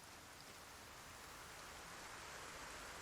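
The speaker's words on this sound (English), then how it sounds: "it's raining for the first time in months." Rain in the video game Project Zomboid, a faint steady hiss of falling rain, even and continuous throughout with no talking.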